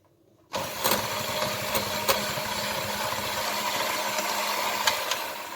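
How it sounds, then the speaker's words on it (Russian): Egg yolks being beaten without sugar by an electric mixer for a sweet roll, a steady whirring motor drone that starts abruptly and runs continuously at moderate loudness, with a few faint clicks. "Теперь сразу же приступаем взбивать желтки."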